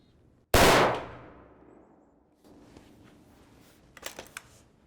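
A single heavy-recoil handgun shot, fired with a Hornady bullet, cracks loudly outdoors and rings out in a decaying echo, followed by faint shuffling and a few light clicks.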